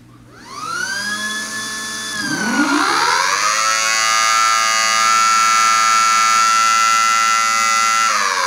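A small electronic siren, a Mini Thunderbolt, winds up, rising in pitch over a couple of seconds, then holds a loud, steady, piercing wail to the end.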